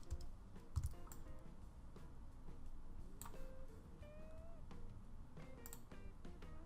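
Keyboard keys and mouse clicks tapping while a perfect circle is drawn in Adobe XD, with a few sharp clicks standing out over a steady faint background hum.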